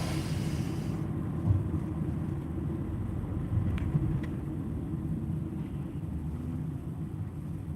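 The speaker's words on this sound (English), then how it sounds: "I'm taking my car into the shop" Steady low engine and road rumble from inside a car on the way to a repair shop, continuous and even throughout with no talk.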